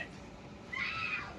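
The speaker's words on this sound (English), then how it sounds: "The kitty was like, meow." A single short cat meow rises near the end, close but modest in level over faint room noise.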